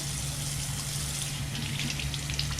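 Steady broadband rush of water pouring from a tap, constant and fairly close, with no voices.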